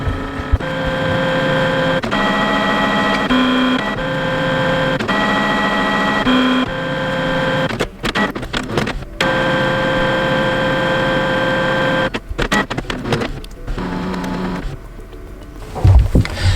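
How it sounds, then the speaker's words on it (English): Canon MG5700 inkjet printer running a deep clean of its print heads: a steady mechanical whir and hum with shifting tones, interrupted by several short clicks and clunks, heard up close with no voices. "here we have deep cleaning the print heads"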